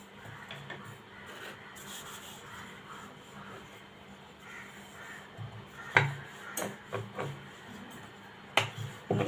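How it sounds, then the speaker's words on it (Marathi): A rolling pin rolls flour dough into thin sheets on a round board for puff patties. Soft, quiet rubbing and rolling continues throughout, with a few sharper wooden knocks and taps near the end. "पोलपाट आणि लाटणं घेतलेलं आहे त्याच्यावर आपल्याला ह्या पोळ्या लाटून घ्यायच्या आहेत"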